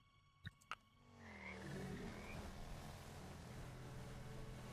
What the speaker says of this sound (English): It's definitely a speedboat.